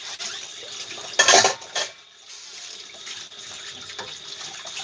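Hot water running from a tap into a sink, a steady hiss with a louder gush and splash partway through, close and alone.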